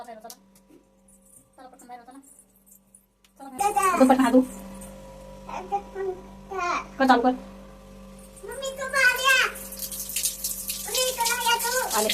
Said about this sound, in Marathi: ह्या बाथरूममध्ये कशी दोघी बहिणी पाणी खेळत होत्या